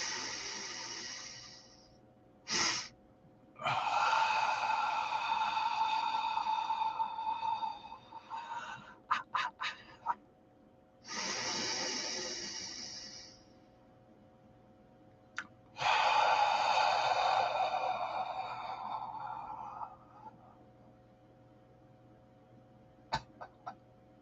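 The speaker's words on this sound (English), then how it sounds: "get our lungs filled as much as we can, double intake" Slow, deep breathing exercise with long drawn inhales and exhales, several breaths in sequence separated by pauses, close and fairly loud with no talking.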